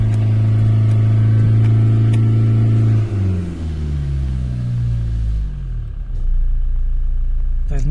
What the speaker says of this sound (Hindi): RPM से ऊपर हमने एक्सीलेटर कर दिया है।